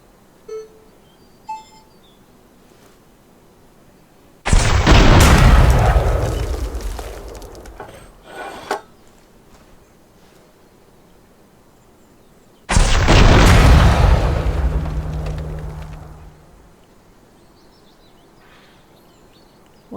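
Two loud, booming blasts from the Gunsmith Simulator game's shooting range, each a sudden broadband burst that rumbles and decays over several seconds, separated by quiet with faint beeps.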